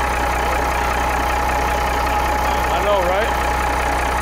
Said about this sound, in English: Look at it, just sitting here idling.